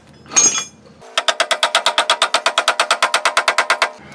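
Rapid, steady metallic hammering of a track bar into place on a 1999-2004 Jeep Grand Cherokee during a front lift install, over twenty quick blows in a regular rhythm, preceded by a brief scraping clank.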